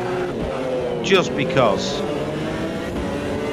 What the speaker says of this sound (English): I'm in the McLaren F1 GTR at Le Mans, quick 2 laps.